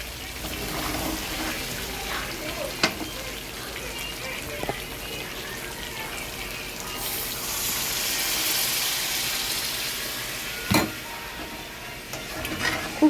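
Chili chicken with potatoes simmering in a pan after water is poured in, with steady bubbling and sizzling and occasional stirring scrapes and sharp utensil knocks, close up and moderately loud throughout.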